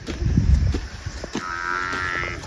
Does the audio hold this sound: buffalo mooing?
yes